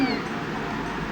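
A cat meowing in a video game, one brief mewing cry at the start over a dense, steady layer of game audio and background noise.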